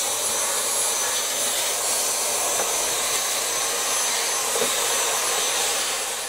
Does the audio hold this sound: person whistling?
no